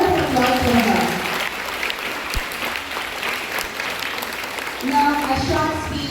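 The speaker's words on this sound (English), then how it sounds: "Give a big round of applause for her" An audience at a Zainabiya School event in Alipur claps, with steady applause filling the room. The clapping runs under a voice talking at the start and again near the end.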